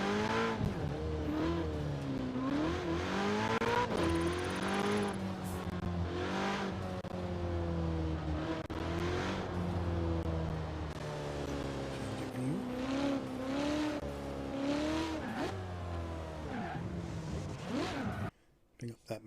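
A racing car in a video game played through Xbox Cloud Gaming drives with a steady engine drone that rises and falls through gear changes and revs, close and loud, with someone talking over it.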